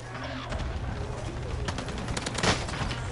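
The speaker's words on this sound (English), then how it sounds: "taking heavy fire" Heavy, sustained gunfire in a shooter video game, dense rattling bursts running without pause and peaking in one loud crack near the end, under a steady low background hum.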